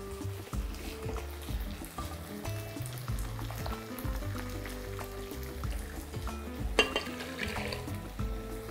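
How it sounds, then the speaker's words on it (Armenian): Boiling water and beef broth poured over rice in a pot, a steady liquid fill with faint sizzling and clinks, close and moderately loud, no voices. "1 բաժակ բրնձին, 2 բաժակ եռացած ջուր ենք լցնում"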